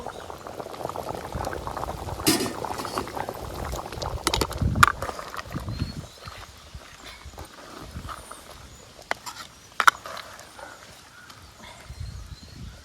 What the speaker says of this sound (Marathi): वाटण तर मस्त उकळणार